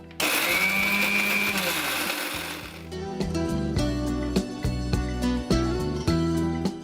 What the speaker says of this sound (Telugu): 2 స్పూన్ల నూనెతోటి మిక్సీ పట్టి తీసుకొచ్చి మీకు చూపిస్తా